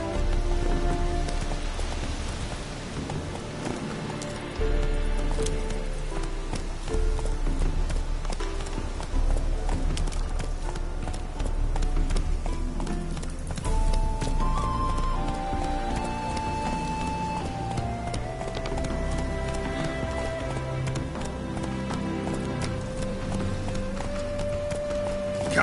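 Roach, Geralt's horse in The Witcher 3, gallops with steady rhythmic hoofbeats over rain and a continuous bed of game music. The hoofbeats go on for the whole stretch at moderate loudness.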